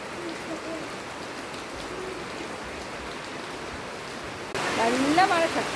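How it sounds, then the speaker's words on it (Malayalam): Heavy rain pouring down steadily, an even hiss of falling water that swells louder near the end, while a voice speaks over it. "നല്ല മഴ, ശക്തിയായിട്ട് നല്ല മഴ പെയ്യും കേട്ടോ."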